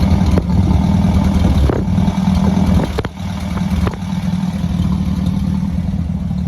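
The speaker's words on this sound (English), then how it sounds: "Let's move back to the back and we'll hear the exhaust note." A 1950 Ford Prefect idles steadily through a single exhaust with a low, throaty rumble, close and loud, with a brief dip partway through.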